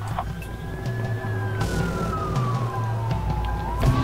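Police car siren in the video game Watch Dogs, a single wailing tone sweeping slowly up and down over a low engine rumble, steady and fairly close, no voices.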